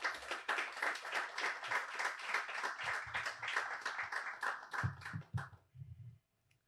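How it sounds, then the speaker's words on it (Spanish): A Protestant Reformation Day gathering gives a strong round of applause, steady mid-distance clapping for about five seconds that ends abruptly, followed by a few soft thumps. "un fuerte aplauso"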